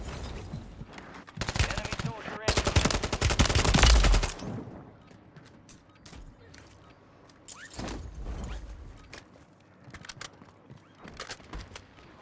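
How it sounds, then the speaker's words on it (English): Assault rifle fire in the Call of Duty video game, loud rapid bursts up front for about four seconds, then scattered fainter shots and game noise with occasional talk underneath. "It's an assault rifle."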